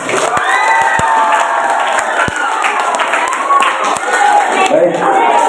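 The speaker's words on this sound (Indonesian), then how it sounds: "Tepuk tangan dulu untuk Pak Frans." A school audience at a junior high student debate event claps and cheers for the moderator, a dense, sustained burst of applause with shouts and crowd voices filling the hall throughout.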